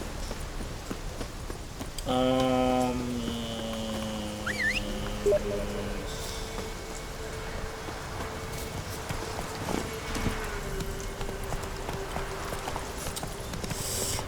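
Rhythmic clip-clop of horse hooves in The Witcher 3 video game plods steadily through the whole stretch, with a brief tonal musical swell and other game sounds layered over a busy background.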